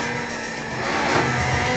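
Amuse-tuned Honda S2000 engine revving hard toward 9,000 rpm, a loud, continuous high-pitched wail that rises slightly and holds throughout.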